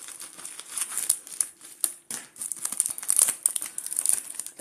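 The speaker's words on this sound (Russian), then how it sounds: "Сегодня будет распаковка посылок сайта AliExpress." An AliExpress parcel is unwrapped up close, with dense crinkling and crackling of plastic packaging in irregular bursts and a few short rips, with no talking.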